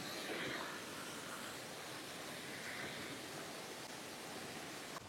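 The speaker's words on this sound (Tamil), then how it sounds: "ரொம்ப அற்புதமாக போயிட்டுருக்கு தண்ணி." Water rushing down a waterfall stream, a dense, continuous roar close by, steady and loud from start to finish with no voices.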